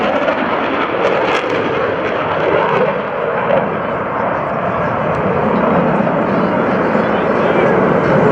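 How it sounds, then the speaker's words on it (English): Roar of F/A-18 Hornet jets in a show-of-force pass at a naval air station airshow, loud and continuous from a distance, with a crowd murmuring and an announcer audible. "you'll see the last show of force by these Hornets."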